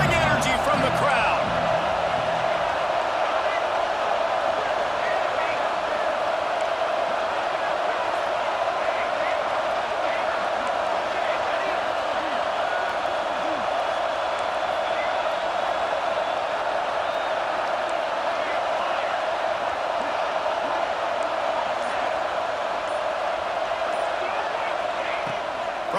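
Steady stadium crowd roar from a college football video game, Texas in a dynasty season, holding loud and constant through a third-and-goal play, with a commentator talking over it.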